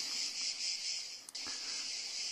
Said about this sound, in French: presque le chant des cigales un dimanche de Mondial la Marseillaise